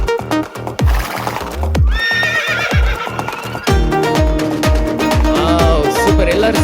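A horse whinnies and hooves clip-clop in rhythm over a loud, full musical backing at the start of a children's worship song.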